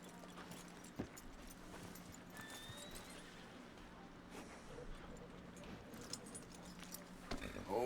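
Horse hooves clip-clop at a steady walking rhythm in Red Dead Redemption 2, close and moderate in level over continuous outdoor ambience, with a brief whinny and talk in the background.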